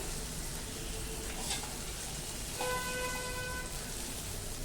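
Chopped colocasia leaves and stems cook in a little oil, a soft steady sizzle and crackle in a pan with faint brief tones, fairly quiet and without talk.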